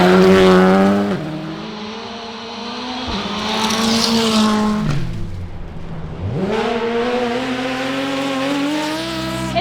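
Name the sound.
Toyota rally car driving a stage, tires skidding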